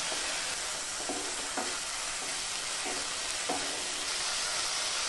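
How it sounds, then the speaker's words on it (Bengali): Spice paste with tomato paste fries in oil for a Bengali pabda fish kalia, a dense, steady sizzle close by, with several soft stirring scrapes at intervals and no talking. "এবার ভালো করে কষাতে থাকবো যতক্ষণ না তেল ছেড়ে আসছে মশলা থেকে"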